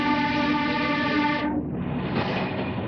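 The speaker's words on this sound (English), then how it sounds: "we head high into the Andes aboard a slightly antiquated train" An old, somewhat antiquated train climbing from Cusco into the Andes of Peru sounds a long steady horn over the rumble of the cars, then continuous rolling noise once the horn stops.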